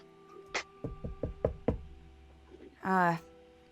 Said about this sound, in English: You hear another knock at the door.